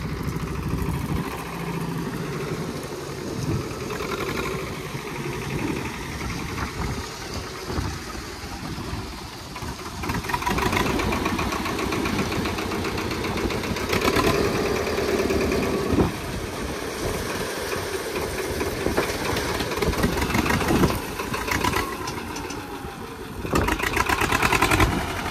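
Swaraj 724 XM tractor engine running while stuck with a fully loaded trolley, a continuous rough, knocking diesel chug that rises and falls in intensity over a long stretch, with no talking.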